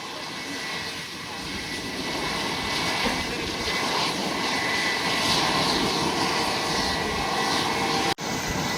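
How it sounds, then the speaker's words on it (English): Delta Airlines Airbus A321neo arriving from Minneapolis and landing on runway 10 at San Juan, heard as a steady, fairly loud engine roar that swells slightly before cutting off abruptly near the end. "here we got Delta Airlines Flight 1925 coming in from Minneapolis on the A321neo"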